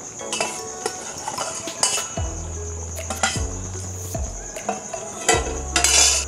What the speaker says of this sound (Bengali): মিটটা মিশিয়ে দিচ্ছে